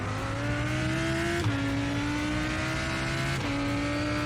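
Race car engine in iRacing drones steadily at high revs, with two distinct downshifts where the pitch drops and the tone blips, loud and close with no talking.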